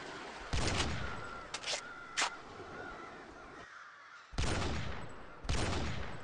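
Several bursts of gunfire in the VR game Z Island VR, a few quick rattling volleys separated by pauses, fairly loud with no talk.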